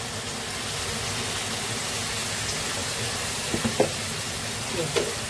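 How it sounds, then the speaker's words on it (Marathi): Green masala paste (vatan) and tomato sautéing in a pan for a village-style cluster bean (gavar) bhaji: a loud, dense, continuous sizzle with a few soft stirring clicks near the end. "वाटण आणि टोमॅटो आपण मस्त असं परतून घेऊया"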